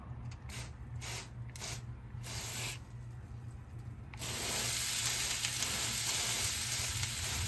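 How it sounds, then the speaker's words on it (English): Spritz bottle misting pork chops inside a smoker during a long cook of wild boar and pork butt, short spray bursts followed by a steady broad hiss with a low hum underneath, close and moderately loud. "we'll go ahead and give it a spritz, and we're gonna close it back down"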